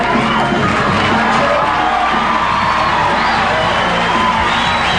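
A bodybuilding competition crowd at the 1986 Olympia roars and whoops for a most muscular pose, a loud, dense wall of cheering and shouts sustained throughout.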